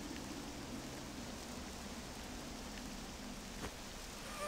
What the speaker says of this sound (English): the rain doesn't look like it'll let up anytime soon.